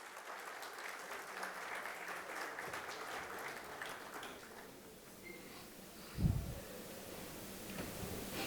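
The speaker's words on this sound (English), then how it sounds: "Ladies and gentlemen, a huge round of applause, please." Applause from a summit audience at the India-Africa Seed Summit 2025: a soft, fairly distant patter of clapping that fades out over the first few seconds, leaving a quiet room with a single low thump near the end.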